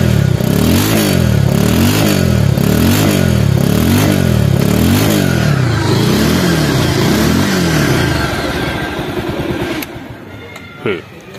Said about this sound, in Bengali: এখন গাড়িটি স্টার্ট করে দেখাবো, গাড়িটি স্টার্ট করলে আরও অবাক হয়ে যাবেন আপনারা কত সুন্দর সাউন্ড